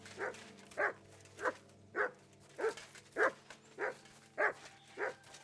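A dog in the video game Kingdom Come: Deliverance II barks in a steady, evenly spaced rhythm, about nine moderately loud barks, with a faint background hum and no talk.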